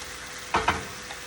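White wine simmers in a pan for a seafood stuffed artichoke dish, a steady soft hiss and bubble with two brief louder sputters in the middle, no talking.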